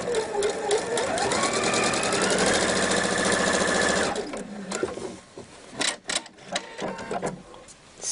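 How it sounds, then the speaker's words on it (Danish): A sewing machine runs fast and steady, topstitching the curved hood seam of a hoodie, loud and close for about four seconds before stopping, followed by scattered handling clicks and fabric rustle. "Og nu skal vi have syet hættesømmen, den runde bue her. Den skal også lige have en kantstikning."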